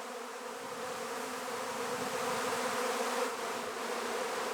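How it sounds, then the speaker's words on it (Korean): Honeybees from a migratory beekeeper's apiary swarm outside their hives, making a dense, steady buzz that swells slightly and holds, close and continuous with no voices. "벌통 안에 있어야 할 벌들이 죄다 밖으로 나와 있습니다"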